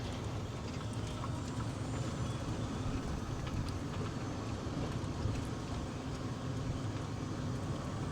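A golf cart drives through the Westside Garden District neighborhood of Pensacola, a steady, even rumble of motor and road noise that holds at a constant low level without pauses.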